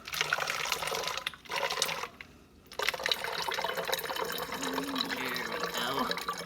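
Blue-dyed water pours and splashes steadily into a container, briefly cutting out twice before running again with a rising filling tone.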